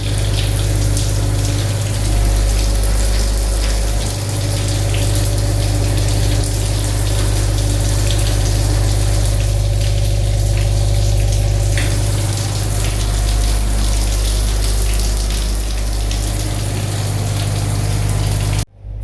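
Shower running steadily in a hotel room, a loud, continuous rush of water with a low pump-like hum underneath, nearly unbroken for the whole stretch before cutting off abruptly at the end.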